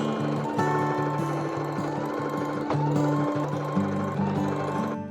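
A sewing machine stitches quilt top pieces in a fast, rhythmic mechanical chatter, close and loud. Brief stops and restarts break up the stitching.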